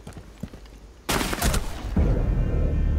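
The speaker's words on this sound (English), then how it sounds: "I was just trying to snipe that guy, and looks like we sniped each other at the same time" Sniper rifle shots crack out in a Rainbow Six Siege team deathmatch inside a house, a sudden loud burst followed by dense, ongoing gunfire close at hand.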